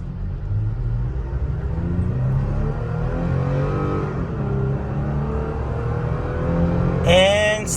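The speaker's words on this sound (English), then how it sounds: "I'm going to do a 0 to 60 maybe trial here." A Toyota Tacoma pickup truck accelerating hard from a standstill toward 60 mph, heard from inside as a loud continuous engine drone and road rumble that rises steadily in pitch across the run.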